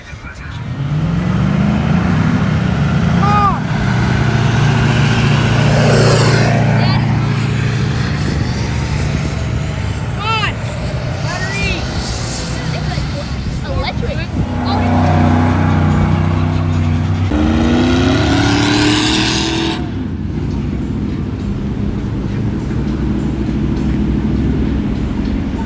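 Lifted 4x4 trucks cruise past one after another on the sand at a Daytona Beach truck meet, engines rumbling loud and close with swelling pass-bys, while people talk over the traffic.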